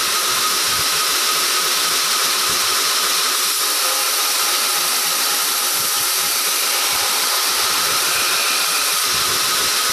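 Grinder during finish grinding of a knife blade, a steady, loud, unbroken high whine and hiss that continues throughout with no talk.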